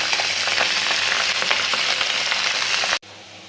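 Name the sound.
pabda fish frying in oil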